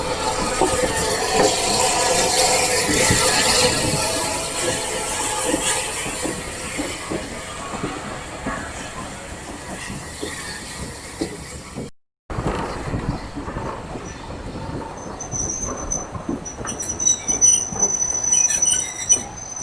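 Preserved train at the Nene Valley Railway, Peterborough, waiting for its locomotive to move to the front: steady close rumble and hiss of rolling stock with squealing wheels, a brief gap, then continued clanking and high metallic squeals.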